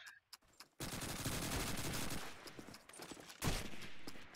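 Dense automatic gunfire and rapid shots from a Call of Duty 2 match on the Burgundy map, a sustained loud burst after a brief quiet start, then a second surge of firing.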